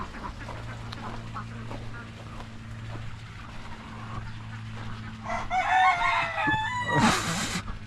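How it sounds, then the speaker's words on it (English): A rooster crows loudly toward the end, a drawn-out call rising over a steady low hum and faint background clucking. "we have more than one rooster over there"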